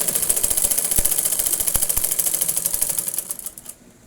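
A sewing machine double-stitches the side seam of a women's top, running in a rapid, even clatter of needle strokes that slows and stops near the end.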